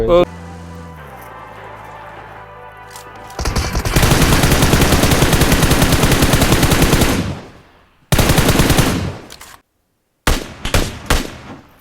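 Rapid gunfire in PUBG with an SKS rifle comes as loud, dense bursts of shots, a sustained volley and then several short separated bursts after an opening stretch of quieter game sounds.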